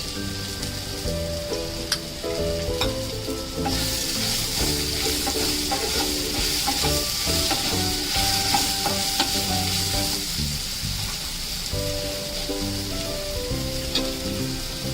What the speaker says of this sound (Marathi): चांगल्या त्या मसाल्यांमध्ये परतून घेऊया।